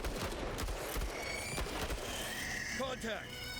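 Rapid gunfire from the tactical game Menace, repeated sharp shots in a steady stream, heard under ongoing talk.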